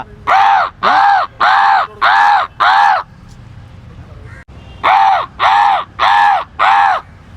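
A man imitates crow calls to summon crows, producing loud, close caws in two evenly paced runs of five, separated by a short quiet gap.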